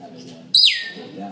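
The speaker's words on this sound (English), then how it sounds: "There's a bird in here for some reason." A single bird chirps indoors, one bright, loud, close tweet against a quiet room.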